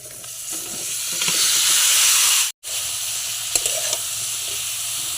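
Dried shutki fish and flat beans fry in a pan with a loud, continuous hissing sizzle that swells, cuts out briefly midway, then resumes with faint stirring scrapes.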